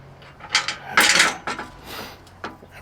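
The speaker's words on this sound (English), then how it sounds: "put a nut on there" Nut being threaded onto a bolt on a 1983 Kenworth cabover truck, giving a few close metallic scrapes, clicks and rattles in short irregular bursts.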